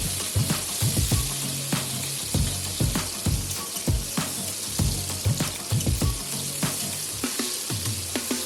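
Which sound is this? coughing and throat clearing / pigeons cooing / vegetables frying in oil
vegetables frying in oil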